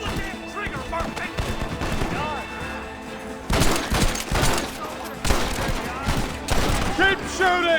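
Dense gunfire in a Red Dead Redemption battle on PS5: rapid volleys of rifle and pistol shots crackle and boom in overlapping bursts, growing louder midway, while voices shout over the fighting.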